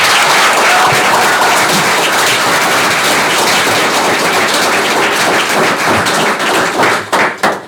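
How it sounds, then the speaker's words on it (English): Loud, dense applause from an audience at a township committee meeting fills the whole span, thinning and breaking into scattered claps near the end. "So let's have another nice round of applause for Roger."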